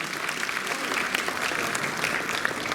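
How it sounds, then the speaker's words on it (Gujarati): An audience at a police ceremony for returning stolen valuables and money lost to cyber fraud claps in sustained, even applause that stays dense and steady from start to end. "જોરદાર તાળીઓ સાથે આપણે વધાવતા રહીએ"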